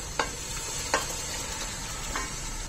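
Mutton coated with turmeric, salt and green masala fries in hot oil, giving a soft continuous sizzle with three short stirring scrapes and clinks spread across the moment.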